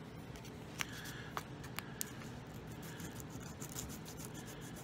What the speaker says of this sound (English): Just using a utility knife razor blade.